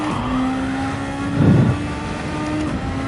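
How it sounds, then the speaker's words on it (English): A Superformula racing car engine drones steadily in Gran Turismo 7 at Catalunya, with a brief burst of tyre squeal in the middle. "I could even hear the tyre squealing that time"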